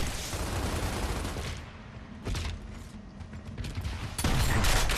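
Shotgun fire in the video game Gears of War, heavy blasts landing in short bursts amid dense gunfire and combat noise, with a loud burst near the end.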